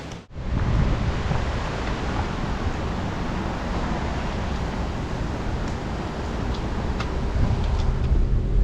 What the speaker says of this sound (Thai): น้ำตกก็จะไหล ลดหลั่นลงไปเรื่อยๆนะครับตามลำธาร